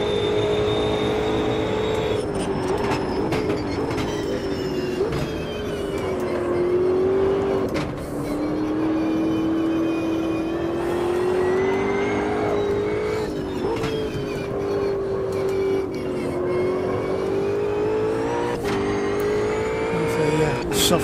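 A simulated race car in Automobilista 2 runs a lap on soft tyres, its engine droning and rising and falling through shifts, loud and continuous, with someone talking over it.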